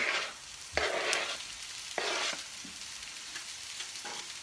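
Minced meat frying with chopped onions in a pan over high heat, a crackling sizzle that swells in bursts as it is stirred, then settles to a quieter hiss.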